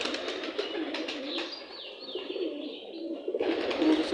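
Pigeons on a farm coo repeatedly in soft, throaty calls, with a few chirps from other birds. The sound is fairly close and steady, with no voices.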